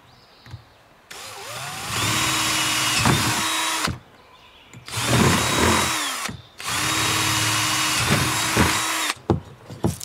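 Three long bursts of a power drill grinding through metal on a dump cart, each several seconds, with short pauses and clanks between them.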